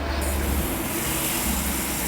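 A garden hose sprayer set to shower mode blasts water onto outdoor air conditioner coils, producing a loud, steady, close hiss of spray that holds unbroken throughout.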